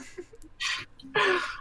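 A short, sharp sneeze-like burst of breath, two quick bursts within under two seconds, close and fairly loud in a quiet room.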